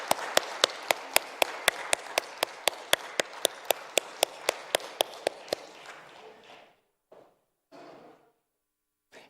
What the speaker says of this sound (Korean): 우리 권사님 집사님들께 한 번 더 박수 치겠습니다